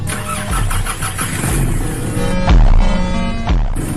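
A car engine with a worn-out reputation cranks and starts, revving in uneven surges with sharp bursts near the end, loud and close with no voices.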